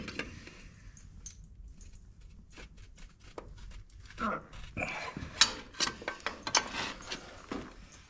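Free dumpster-find filter wrench working an engine oil filter loose on a junkyard vehicle, a run of close metallic clicks, scrapes and ratcheting clatter that grows busier and louder toward the end.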